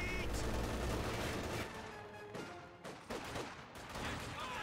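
Infantry rifle and machine-gun fire in Company of Heroes 2, conscripts and Volksgrenadiers trading shots from behind sandbags: a dense, steady crackle of overlapping shots that eases midway and then builds again.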